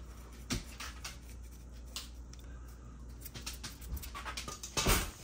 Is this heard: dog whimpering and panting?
yes